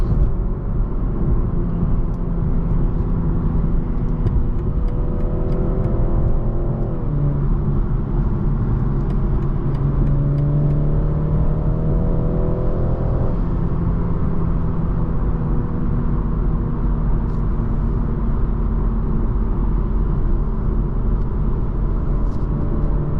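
A 2023 BMW 330i M Sport accelerates on the road, engine rising through gears with audible shift changes over a steady cabin rumble and road noise, heard from inside the car.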